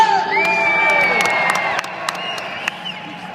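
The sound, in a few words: crowd cheering and applauding at a freestyle motocross show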